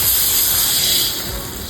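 Water hitting a hot wok while cooking char kuey teow paste, a loud, steady broadband sizzle and hiss that eases slightly toward the end, with no voices.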